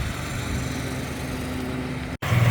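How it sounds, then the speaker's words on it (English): A small engine drones steadily at Put-in Bay, a buzzy lawnmower-like running tone that stays constant and moderately loud, with a brief cut near the end before it resumes. "I don't know what that is. Sounds like a lawnmower."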